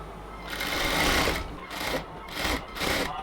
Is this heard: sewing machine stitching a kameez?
yes